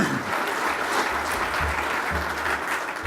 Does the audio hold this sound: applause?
yes